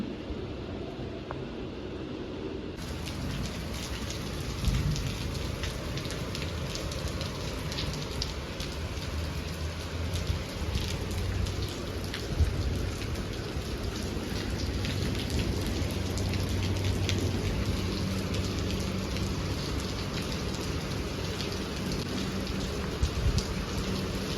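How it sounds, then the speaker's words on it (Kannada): Heavy rain pours in a steady, dense hiss that holds for the whole stretch, loud and close, with no voices or other sounds over it. "ತುಂಬ ಜೋರು ಮಳೆ ಆಯಿತು"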